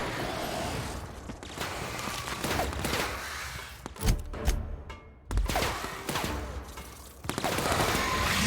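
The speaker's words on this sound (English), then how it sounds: "Opening fire." Gunfire in The Outer Worlds, with sustained bursts of rapid shots and sharp thumping impacts during a firefight, loud and near, with brief gaps between volleys.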